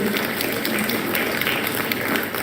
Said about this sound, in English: the clap is very weak